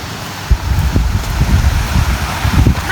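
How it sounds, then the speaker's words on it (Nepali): Breeze blowing through leaves beside Bhurjung Khola, a mountain stream, with a steady low rumble of wind and soft rustling, occasional brief knocks and bumps close to the microphone; no talk. "अरे हेर्नु अन्त राम्रो सिरसिर हावा लाग्यो त है।"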